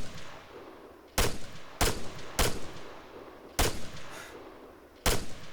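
Gunfire in the video game ARMA 3: five sharp, loud shots ring out at irregular intervals of roughly half a second to over a second, each with a short echoing tail over quiet ambience.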